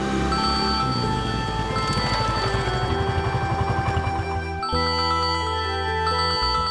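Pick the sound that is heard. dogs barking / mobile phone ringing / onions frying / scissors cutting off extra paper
mobile phone ringing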